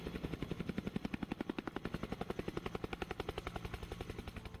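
HAL light utility helicopter, a modern military machine, thudding with a fast, steady rotor beat throughout, a loud rhythmic chop over a low engine rumble.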